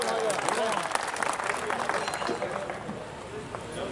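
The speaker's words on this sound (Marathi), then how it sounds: "टाळ्या जोरात टाळ्या होऊन जाऊ द्या" Crowd applause at a political gathering in Degloor, a dense steady clapping that carries through the whole stretch, with a voice talking over it.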